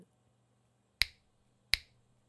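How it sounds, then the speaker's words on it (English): Two crisp finger snaps made right in front of a microphone, about three quarters of a second apart, each a sharp, close, isolated click over near silence. "I just recorded a finger snap directly in front of the microphone"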